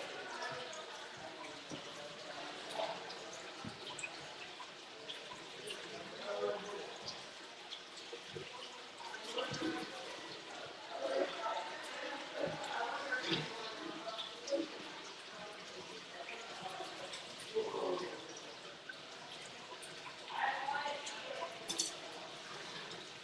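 Aquarium siphon equipment gets rinsed under water, a continuous splashing, gurgling wash with occasional knocks and drips, heard close and moderately quiet with some voice mixed in.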